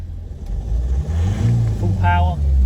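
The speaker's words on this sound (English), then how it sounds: "Full power. There's no smoke at high revs." A 2014 Ford Transit Custom LWB refrigerated van's diesel engine revving hard at full power, a loud close steady drone with a brief rising whine near the end.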